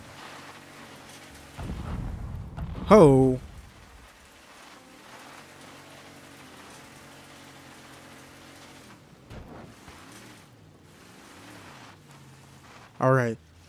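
Rain falls steadily in Mafia 3 under low rumbling, with voices talking over it and two short, loud, rising vocal or siren-like bursts standing out.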